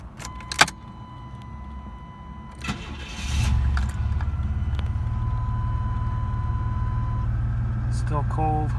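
A 1993 GMC Typhoon starting cold: keys jingle and click, the starter cranks briefly, then the engine catches and settles into a steady, fairly loud idle, with a chime sounding and someone speaking near the end.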